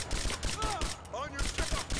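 Dense, rapid gunfire in the video game Rise of the Tomb Raider, a continuous loud barrage of shots with brief bursts of voice mixed in.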